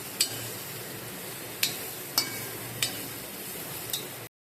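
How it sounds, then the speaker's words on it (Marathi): Stuffed bitter gourd filling with jaggery powder and kokum is stirred in a hot pan: a low, constant sizzle broken by five sharp spoon taps at uneven intervals. "आता हे पण थोडंसं मिक्स करूया आपण"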